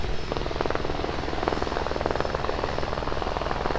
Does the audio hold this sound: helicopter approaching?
yes